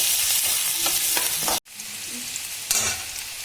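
Onions frying in oil, a loud bright sizzle with stirring scrapes, briefly cut off for an instant then resuming with a sharper hiss as more goes into the pan.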